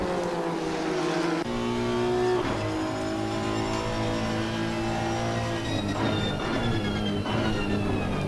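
A pack of GT3 race cars battling at Kyalami in Assetto Corsa Competizione, engines droning loud and continuous with shifting pitches as cars close in, no voices over the roar.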